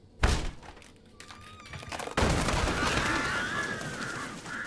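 In the video game Alan Wake, a kick sends an object off with a sharp thud, followed by a second heavy impact and a rattling clatter, while bird calls and crows cawing carry on in the background.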